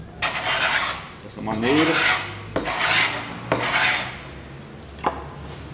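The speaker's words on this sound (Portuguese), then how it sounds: "Agora tem que raspar a cola. Você pode raspar com o formão puxando" Chisel scraping old glue off a hardwood bed rail, about five close, loud rasping strokes in an uneven rhythm, each broad and gritty, with a brief spoken phrase partway through.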